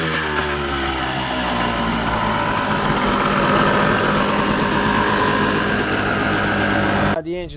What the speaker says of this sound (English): The engine idling, we got the engine running